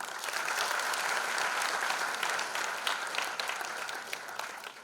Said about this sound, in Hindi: कैलासा बैंड के लिए भाई जोरदार ताली